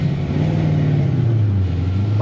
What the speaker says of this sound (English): With a shitload of wheel spin